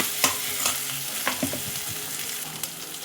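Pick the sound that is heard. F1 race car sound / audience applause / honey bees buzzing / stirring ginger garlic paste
stirring ginger garlic paste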